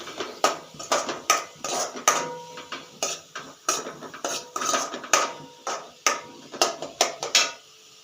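Chopped tomatoes go into a pan of browned ingredients and get stirred, a close, busy run of metallic scrapes and clacks from a spoon striking the pan in a quick, uneven rhythm, with no voices.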